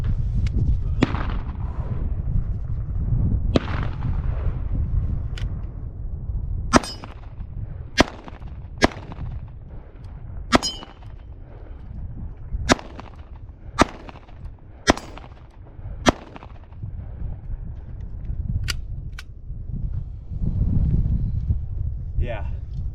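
A handgun fires at a shooting range: about a dozen sharp, separate shots come at irregular intervals over steady low background rumble, loud and close.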